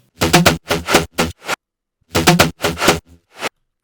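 A gritty, distorted synth lead plays choppy note bursts in two phrases, with a wash of reverb tails trailing after the notes.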